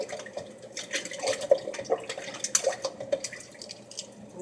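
Makeup brushes dunked and swished in soapy water, soft close sloshing and dripping splashes in an irregular rhythm, heard without talk.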